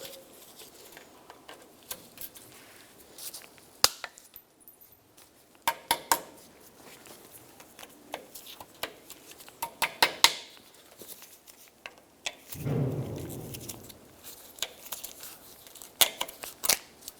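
Small metallic clicks, taps and scrapes from pulling the cotter pin off the lower ball joint of a 1996-2002 Toyota 4Runner, irregular and close, with a brief louder rustle partway through.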